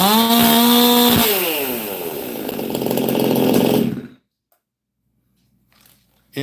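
A McCulloch chainsaw, fitted with chamber, carb, piston, muffler and timing work, screams loudly up close at high revs for about four seconds, then cuts off abruptly into near silence.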